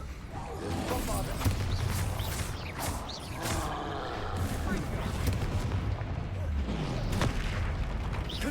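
Bombarda spell blasts in Hogwarts Legacy: deep booming explosions and crackling magical bursts layered over dense, continuous game sound and music.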